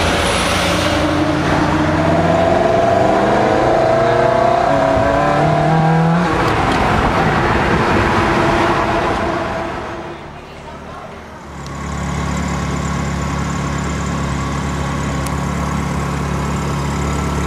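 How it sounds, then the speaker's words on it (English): A Ferrari engine revs and roars loudly, rising and falling in pitch, with voices talking over it before it settles into a steady rumble. "Will everybody hear the sound of Ferrari?"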